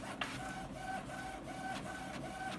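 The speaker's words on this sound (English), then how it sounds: "Go, printer, go!" An inkjet-style printer runs steadily at close range, its mechanism whirring with repeated tonal carriage passes and periodic clicks of paper feed, alone without any voices.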